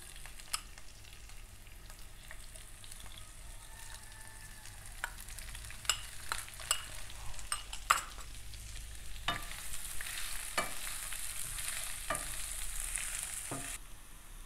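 Chopped onions sizzle quietly in a hot pan while a spatula stirs and knocks against the metal in irregular taps, the frying hiss growing a little brighter later on, close by and with no talking.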